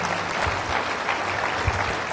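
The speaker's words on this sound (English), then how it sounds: "let's get another round of applause for all of our speakers today." A convention audience applauds its speakers, steady dense clapping from a large room heard alone for a couple of seconds.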